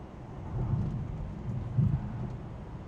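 A storm in Iowa with low, rolling thunder rumbling under a steady wash of rain, two deeper swells of rumble, moderately distant and fairly soft.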